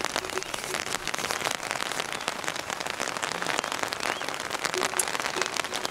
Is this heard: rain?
yes